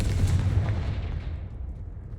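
A Confringo fire spell blast in the Hogwarts Legacy video game: a loud, deep booming burst that rolls on and decays slowly across the whole stretch, with no voices over it.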